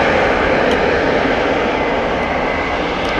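Near Amsterdam Schiphol Airport, an airplane's engines give a loud, steady broadband roar that fills the whole stretch without easing, with no voices.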